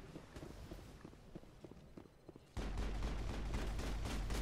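Sniper fire in Mass Effect, with sharp single gunshots and impacts cracking at irregular intervals, then a steady low rumble of battle ambience swelling beneath further shots.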